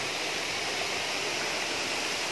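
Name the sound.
strong water flow of a waterfall over rocks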